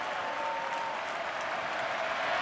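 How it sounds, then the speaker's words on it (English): Rugby league stadium crowd at a Parramatta Eels versus South Sydney Rabbitohs match applauding, a broad distant wash of clapping and crowd noise that holds steady throughout, with no individual claps standing out. "This applause in the background has been organised as a recognition of what Nathan Peats has done for the club and for his teammates"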